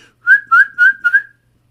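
A person whistles four short rising-falling notes in a quick, even rhythm, clear and close, with silence before and after.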